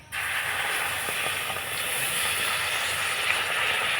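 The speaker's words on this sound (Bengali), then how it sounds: "আর এখানে নিয়েছি হাফ বাটি জল দিয়ে দেবো এর মধ্যে।" Water poured into hot caramel, setting off a loud sudden hiss that continues as a steady roar of steam and bubbling, with no voices.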